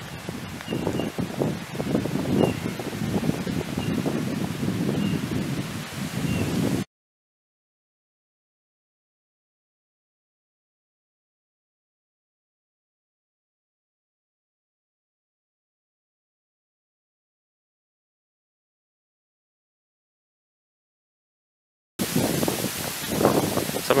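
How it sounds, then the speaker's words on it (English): Blustery wind buffets the microphone in rough, rumbling gusts during a woodland walk, cutting out into a long stretch of silence before the noisy buffeting returns. "it's a bit windy today, which you can probably hear on the microphone"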